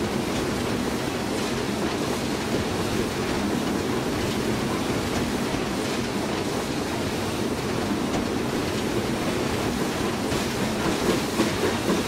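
BR Black 5 steam train on the Western Lines of Scotland in a train simulator game, rolling along as a steady, loud rumble with rhythmic clickety-clack of wheels over rail joints, no voices.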